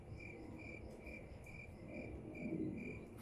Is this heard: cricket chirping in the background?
yes